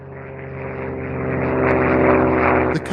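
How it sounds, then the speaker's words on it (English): A propeller aircraft taking off and climbing, its engine drone swelling loudly to a peak before a brief dip and a final burst, heard alone and close. "The aircraft swept into the sky toward Berlin."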